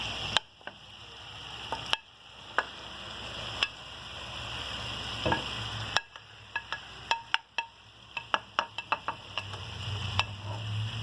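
Seekh kababs sizzle in a pan over onions, a soft steady fry broken by frequent sharp clicks and taps as pieces are laid in and moved about.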